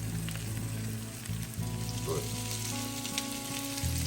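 Food frying in a pan while being stirred, a soft, steady sizzle like light rain with occasional faint utensil movements, fairly quiet and with no talk.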